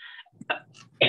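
A few short, quiet cough-like bursts with pauses between them, ending in a louder, harsher cough.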